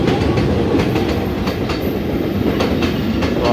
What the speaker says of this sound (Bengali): অলরেডি চলে আসছে এই যে ট্রেন